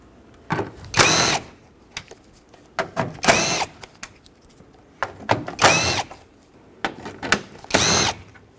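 A power tool drives out 10mm bolts from the grille of a 2011-2016 Ford F-350 with the 6.2L V8, giving four loud, close whirring bursts of about a second each, separated by short pauses and small clicks.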